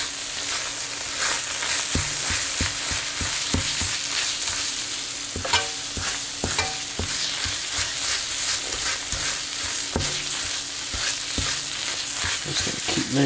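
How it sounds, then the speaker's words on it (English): R-candy rocket fuel mixture being stirred as it cooks in a pan, a continuous sizzling fry with repeated scraping stir strokes, fairly close and alone, with no talking. "Mixing it, keep it moving."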